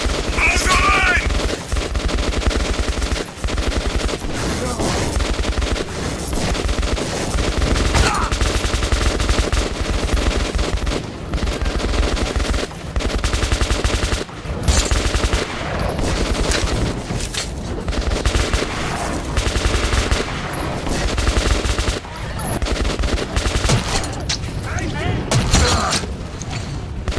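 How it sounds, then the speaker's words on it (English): Dense, nonstop automatic gunfire from the PC game Metro 2033 rattles loud and close in rapid bursts throughout, with shouted voices mixed into the battle. "Fire at will!"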